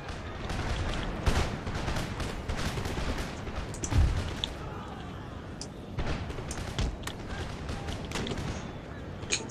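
Musket volleys from legions of line infantry in a strategy video game, a dense continuous crackle of gunfire with several louder bursts standing out, mixed with a faint voice underneath.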